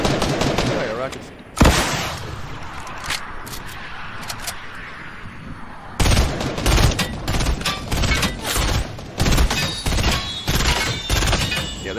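Video game sniper and gunfire shots ring out as a sharp crack followed by a long rolling echo, then a rapid series of loud bursts, with players talking in between.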